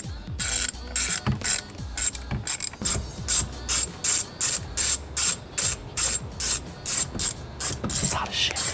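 Socket ratchet clicking in quick repeated bursts while the side bolts of a steering wheel airbag are reinstalled on a Ford Mustang GT350, the crisp pawl ticks close and loud, paused between strokes.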